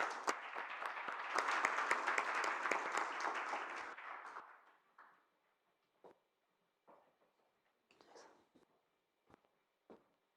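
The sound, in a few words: audience applause for keynote speaker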